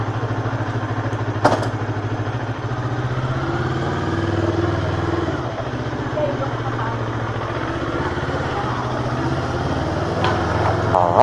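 A motorcycle engine idles steadily while it warms up, giving a continuous low, close rumble with light mechanical clatter and a few faint knocks throughout.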